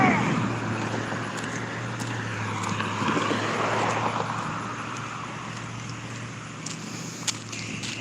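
A truck passes on a road near a walker, its engine and tyre noise swelling to a broad roar and then fading away, over a steady low outdoor hum.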